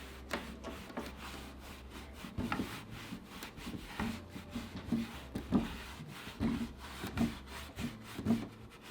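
A brush loaded with black wax is worked over a raised stencil on a wooden dresser, giving soft, repeated rubbing and scraping strokes, close and quiet, in an irregular rhythm with no voices.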